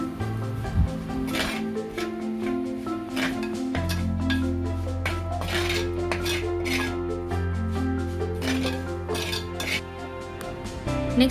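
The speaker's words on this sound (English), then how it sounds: "Mix all the ingredients well." Spoon clinking and scraping against a pan while turmeric, coriander powder and other curry ingredients are mixed for a Kerala red fish curry, a close, rhythmic series of metallic taps over a low hum.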